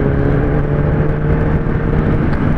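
A Kawasaki ZX-10R motorcycle drones loud and close at sustained high revs, a continuous roaring engine note with wind noise and no talking.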